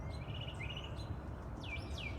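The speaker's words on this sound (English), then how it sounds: "did you hear that sound, the bird" Early morning birds chirp and twitter in short, bright, rising calls over a steady low background rumble, several quick notes clustered near the end.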